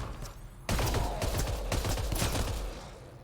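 Gunfire in the video game Mass Effect Andromeda: after a brief quiet lead-in, a sudden loud burst of rapid shots with repeated sharp cracks and booming low thumps that holds steady before easing near the end.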